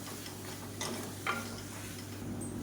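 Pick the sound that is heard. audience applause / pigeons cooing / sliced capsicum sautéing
sliced capsicum sautéing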